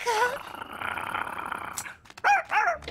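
A dog in a French cartoon growls with a low, rough rumble that runs for over a second, followed by short yips and whimpers.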